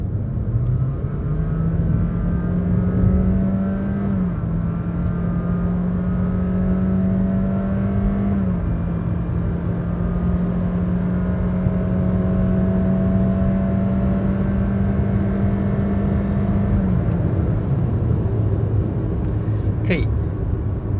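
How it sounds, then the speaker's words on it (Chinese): A Honda City 1.5L RS e:HEV i-MMD hybrid with a 1.5L Atkinson-cycle engine accelerates smoothly, its steady engine drone stepping up in pitch several times over a long continuous pull. "当你踩油过后呢，你会发现啊，它的起步加速是非常非常 smooth 的"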